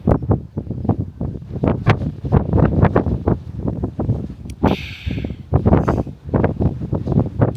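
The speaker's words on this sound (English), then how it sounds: "It's still very windy" Strong wind buffets the microphone in loud, close gusts that rise and fall continuously, with a brief hissing rush partway through, outdoors in Edinburgh, Scotland.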